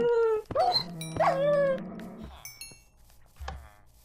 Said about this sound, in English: I just killed two dogs right now